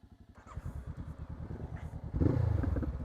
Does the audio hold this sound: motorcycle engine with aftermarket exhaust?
yes